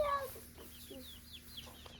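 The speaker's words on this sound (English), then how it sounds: "That chicken." A chicken clucks in a series of short, repeated calls at moderate distance around a barn, steady low background hum underneath, no talk.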